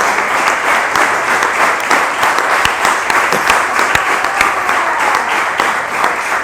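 Sustained audience applause filling a lecture hall at an event on territorial inequality and inclusion, dense steady clapping throughout with no speech over it.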